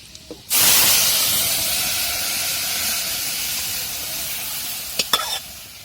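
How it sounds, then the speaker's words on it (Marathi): Cumin seeds and a mixed spice masala hit hot oil for a safflower-leaf curry, bursting into a loud, steady hiss of frying close by, with a few clinks of a utensil near the end. "आपल्याला त्यात टाकायचे जिरे आता जिऱ्याची फोडी द्यायची आपल्याला भाजीला"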